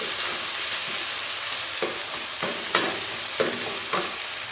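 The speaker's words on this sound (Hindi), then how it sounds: "अब मैं चम्मच की मदद से इसको थोड़ा सा मैश कर लूँगी ताकि ये इसके अंदर अच्छे से मिक्स हो जाए" Cooked tomatoes mashed with a spoon in a frying pan for aloo keema, a constant sizzle with several short scraping strokes of the spoon against the pan, close and alone.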